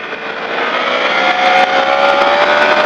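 Motorcycle at full throttle on the Magny-Cours circuit, its engine note climbing loud and close in a sustained rising whine with a small shift-like dip midway, and no speech.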